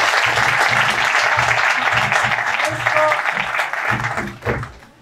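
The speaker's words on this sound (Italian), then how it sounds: "Quindi io farei un applauso a Marino." Crowd at the opening of a historic carnival in Castellamonte clapping, applause heard over rhythmic low thumps of music or drumming, fading out toward the end.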